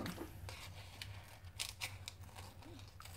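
Scissors snip away excess paper on a handmade memorydex shaker card, with a few quiet, close cuts and light paper rustling at low volume.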